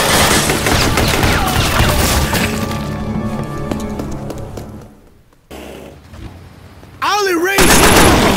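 Gunfire in the Scarface: The World is Yours video game, dense rapid shots and shattering under music and game noise, fading to near silence, then a loud burst returns with a voice.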